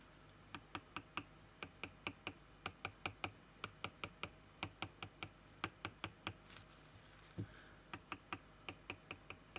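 Quick light tapping on cured UV resin, a steady run of crisp clicks in short bursts, close and otherwise quiet.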